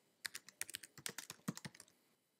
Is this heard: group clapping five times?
no